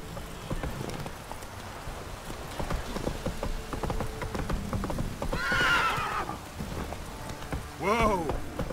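Hooves of the horse Roach from The Witcher 3 clip-clop at a gallop over a rain-soaked ground, with two loud neighing whinnies cutting in near the end.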